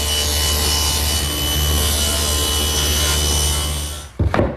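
A table saw tilted to a 10-degree bevel cuts small wood pieces, its motor humming loudly and steadily with a rough cutting rasp, ending in a short burst of knocks as the piece clears near the end.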